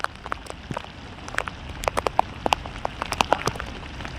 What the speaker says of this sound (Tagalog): Ayun, umuulan na naman